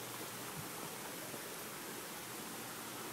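Water from garden fountains and a small waterfall splashes steadily outside near a greenhouse, a constant close hiss and rush of falling water with no voices.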